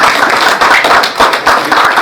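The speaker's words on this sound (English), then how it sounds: "Please, can we give him a sound round of applause?" Quick, rhythmic clapping from a handful of people greeting a professor introduced as keynote speaker at a conference, loud and close, with claps bunching into short bursts and no voices.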